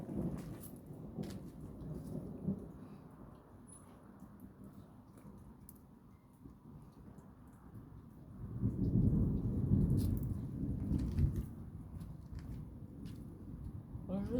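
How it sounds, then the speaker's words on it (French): A moderate August thunderstorm at Montady, France: steady rain hisses throughout while a deep thunder rumble swells and rolls in the second half, with someone speaking French over it. "Ce 7e orage de l'année, il est bien esthétique, comme tout l'orage du 22 juillet."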